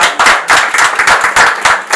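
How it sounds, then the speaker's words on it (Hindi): Loud, close clapping at an awards ceremony, the audience applauding a captain in quick uneven bursts of many hands. "सबसे पहले तो हम सब जोरदार तालियों से कैप्टन साहब का।"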